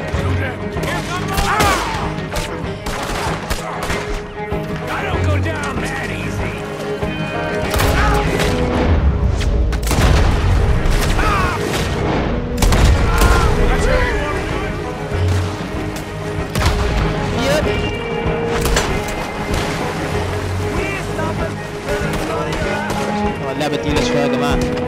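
Dense, loud gunfire from the video game Red Dead Redemption 2 cracks and booms in rapid irregular bursts over roughly twenty-five seconds, with echoing reports layered over game sound and occasional speech.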